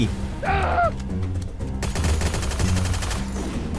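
Bursts of automatic gunfire aimed at a car in a video game, with rapid shots under a brief high-pitched voice cry, a steady game background and a loud dense volley later on.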